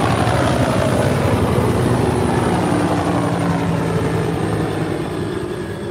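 A helicopter flies low overhead during a night catfishing trip, its loud, steady rotor and engine roar filling the whole stretch and easing slightly toward the end.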